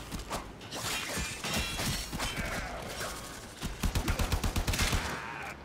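Rapid gunfire in the Warframe shooter, bursts of shots and mechanical clatter crowding together, ending in a tight run of evenly spaced automatic rounds, loud and close.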